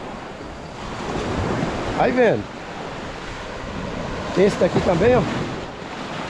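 Waves break on a beach at Praia dos Carneiros in Tamandaré, Pernambuco, at high tide, a steady wash of surf and wind under a person talking close to the microphone.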